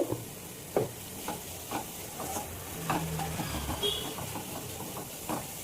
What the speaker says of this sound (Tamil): கொஞ்சம் நேரம் சாட்டே பண்ணலாம்.